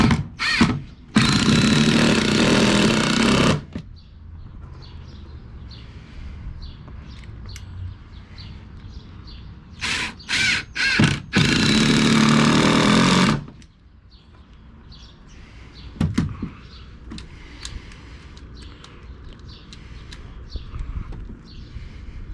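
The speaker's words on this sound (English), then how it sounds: "Impact gun here really drives the screws home." An impact gun driving screws into porch boards outdoors in two long, loud buzzing bursts lasting a few seconds each, with shorter bursts between them. Quieter handling noises and faint birdsong fill the gaps.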